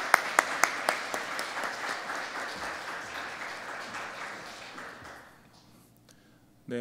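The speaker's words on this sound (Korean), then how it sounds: "뜨겁게 박수로 환영하겠습니다" Church congregation applauds to welcome a visiting pastor at a Sunday afternoon service, steady clapping with a few sharp claps at the start, fading out near the end before a brief loud burst.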